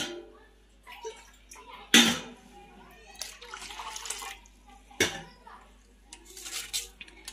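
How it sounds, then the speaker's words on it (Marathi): Water poured into a bowl of whisked curd and spice paste for Dhaba-style kadhi, with splashy bursts and light clinks of utensils against the bowl, a voice faintly in the background. "आणि जेवढं आपल्याला कढीला पाणी लागणार आहे तेवढे यामध्ये ओतूया"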